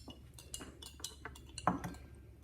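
A spoon stirs granulated sugar in a container, making faint, close scraping and light clinking ticks in an uneven, steady rhythm, with one slightly louder chink near the end.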